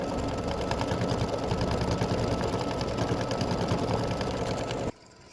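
Embroidery machine stitching a candy cane design for an in-the-hoop mug rug, a fast steady mechanical chatter with a rhythmic needle pulse, close and continuous until it stops abruptly near the end.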